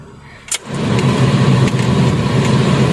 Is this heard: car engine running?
yes